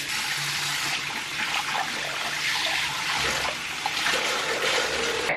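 Tap water runs steadily from a faucet into a sink while makeup is washed off a face, a continuous near splashing hiss with small shifts as hands move through the stream.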